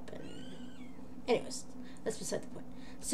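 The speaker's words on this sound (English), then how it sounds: "if you hear meowing, it's my kitten in the background" A kitten in its kennel meows several times in short, high cries in the background while a person talks over it at close range.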